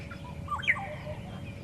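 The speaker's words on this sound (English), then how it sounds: "There's a black-headed oriole. We can hear that beautiful chortling call of theirs." A black-headed oriole gives a brief liquid, chortling call from a safari sunrise drive in the African bush, a few quick fluty notes at moderate distance over steady low vehicle rumble.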